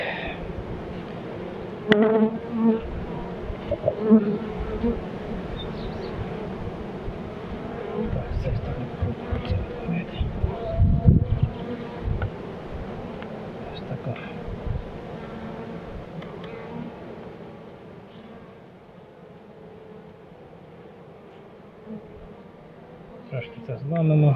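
Steady buzzing of many bees swarming close by at an abandoned apiary, with occasional louder knocks and a muffled voice beneath the hum.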